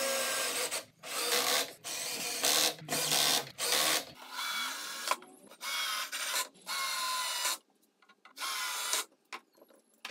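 Screws driven by power driver into pilot holes in a hardwood coffee table subframe, several bursts of whirring motor noise separated by short pauses, close and fairly loud, with no talking.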